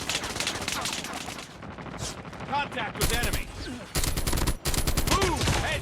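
Continuous automatic gunfire rattles in a battle video game, with rapid bursts nearly filling the whole stretch and a brief dip between salvos.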